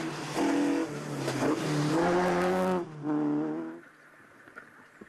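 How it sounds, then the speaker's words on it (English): A rally car on the Tour of Mull 2006 screams at high revs, with skidding and tyre noise, then a harsh burst of impact noise and a sudden drop to fading, quiet rumble as it leaves the road and crashes. "And sadly, it all ended in a spectacular accident."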